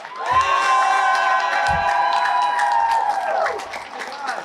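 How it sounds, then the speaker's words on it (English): A crowd claps and cheers with a few whoops through most of the stretch, loud and sustained, while tonal music or singing rings over it before fading at the end. "give her a nice round of applause"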